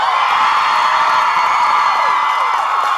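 Loud convention panel audience at DallasCon cheering, whooping and yelling continuously, a dense crowd roar with high shouts throughout.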